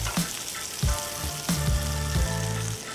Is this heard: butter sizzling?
yes